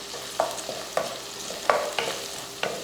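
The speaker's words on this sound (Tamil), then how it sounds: "இந்த டைமில் கொஞ்சமாக மஞ்சத்தூள் இதை வதக்கிடுவோம்" Quiet sizzling of turmeric and other spices in a pan with periodic scraping stirs, about five or six strokes at an irregular pace, close and without talk.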